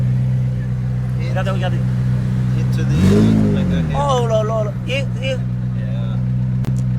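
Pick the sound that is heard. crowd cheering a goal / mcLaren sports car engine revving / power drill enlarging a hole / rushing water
mcLaren sports car engine revving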